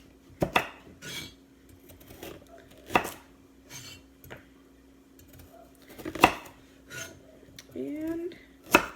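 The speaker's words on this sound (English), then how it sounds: "so I'm going to finish cutting these carrots" Knife cutting carrots on a cutting board while making beef stew: scattered sharp chops and scraping knocks at irregular intervals, close and fairly quiet, with faint clinks between.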